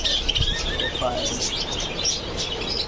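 Birds chirping and calling in a farm aviary that holds Australian doves alongside zebra finches and Java sparrows, with bright overlapping tweets and faint low coos close by, and a soft voice in the background.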